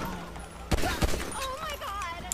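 Two sharp gunshots ring out in GTA 5 during a motorcycle robbery attempt, loud and close amid game audio, with a rising whistling tone afterward.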